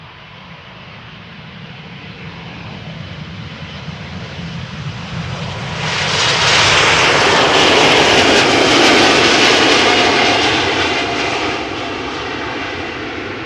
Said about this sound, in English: Really amazing how those geared turbofan engines sound so much quieter.